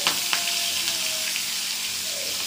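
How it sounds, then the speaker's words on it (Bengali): Prawns frying one by one in a pan with chopped onion, tomato and green chili, a loud, steady, close-up sizzle with small pops and crackles throughout. "তো এক এক করে দিয়ে দেওয়া হচ্ছে চিংড়ি মাছগুলো"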